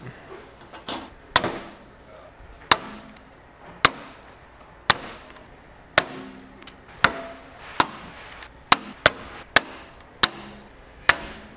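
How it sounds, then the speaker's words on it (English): Pneumatic rivet gun setting 1/8 inch rivets into the wing deck of a sixth-gen Camaro 15-inch strutless drag wing, a sharp pop roughly every second, about a dozen spaced shots, near and loud. "So we'll just use some more of our 1/8 rivets."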